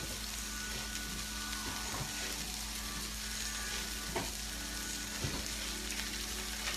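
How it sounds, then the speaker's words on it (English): Food sizzles steadily in hot butter, a constant crackling hiss with a few soft knocks of stirring. "We're sauteing it right now. You can hear it, right? You can hear it sizzling."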